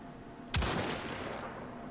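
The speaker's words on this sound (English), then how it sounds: "Oh, he's shooting at me." A single sharp sniper rifle shot rings out at an enemy in Wolfenstein: The Old Blood, followed by a fading tail and a few faint distant clicks in a quiet scene.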